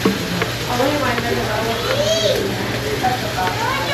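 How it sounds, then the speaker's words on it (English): A small wooden spoon works and presses Carolina reaper pepper pulp, producing a continuous wet, sizzling scrape with low voices murmuring in the background. "Take my little wooden spoon, kind of work it a little bit."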